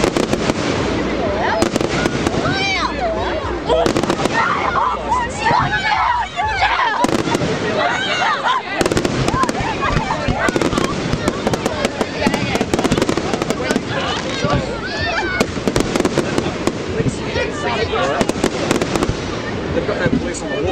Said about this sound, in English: watch the fireworks in the middle of the river.